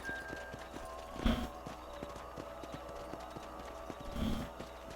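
A horse's hooves clip-clop faintly and steadily in the Red Dead Redemption video game, with a couple of louder thuds along the way.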